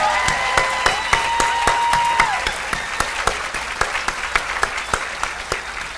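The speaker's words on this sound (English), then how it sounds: "round of applause" Applause from a journalism school commencement crowd starts as a full, dense wash of clapping, then thins into fewer, more distinct individual claps that taper off over several seconds.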